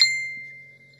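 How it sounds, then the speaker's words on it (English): A smartphone notification chime rings once, a clean bright ding that decays slowly over about a second in a quiet room. "my phone just dinged"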